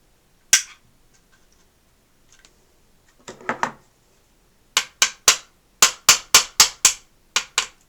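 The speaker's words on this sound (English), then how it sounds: "Just had to get it started with the hammer there" A hammer taps a pin into an HK USP pistol's extended magazine release: one sharp tap, a few faint clicks, then a run of about ten crisp, close metallic taps in quick, even rhythm.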